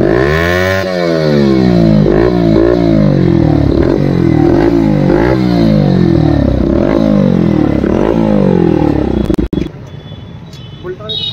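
A Bajaj Pulsar NS125 motorcycle with an aftermarket exhaust revs repeatedly at full RPM, loud and close, its engine note climbing and falling in quick cycles for several seconds before dropping off to a quieter idle.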